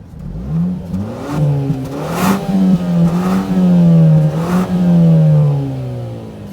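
A 2021 Mazda 3 Turbo 100th Anniversary Edition accelerates hard, its exhaust rising in pitch through a loud, sustained pull before settling into a steady drone, with no voices over it.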